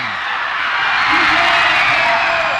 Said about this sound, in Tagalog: this is a jam-packed crowd dito po sa CCDC Gymnasium